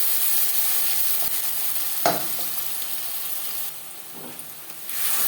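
Spice paste frying with onions in hot oil in a kadai for katla fish tel jhal, with a steady close sizzle, a few sharp stirring knocks and one brief lull.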